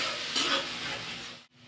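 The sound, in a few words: sautéing vegetable curry spices with turmeric, chilli, cumin in pan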